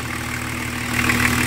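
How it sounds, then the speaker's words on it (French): A BMW 325 TDS with the M51 diesel engine idles close by, a steady low rumble with even harmonic drone and faint clatter, growing slightly louder toward the end, no voices. "Le ralenti moteur."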